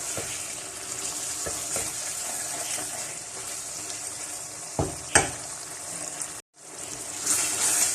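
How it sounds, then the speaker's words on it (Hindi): Beef for karahi frying with spices over a high flame, a steady close sizzle with a few sharp stirring knocks and a brief drop to near silence before the frying resumes. "अच्छे से मसाले मिक्स करने के बाद अब हम इसको थोड़ी देर भूनेंगे तेज़ आंच पर।"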